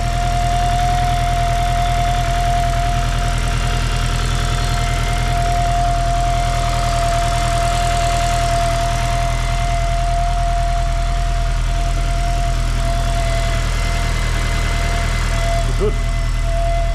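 Honda motorcycle engine idling steadily while warming up with a fresh clutch and new oil, a close, constant low rumble with a faint steady whine holding throughout and no talk.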